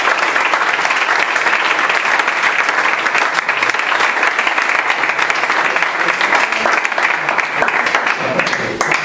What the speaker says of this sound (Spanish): un aplauso para David, por favor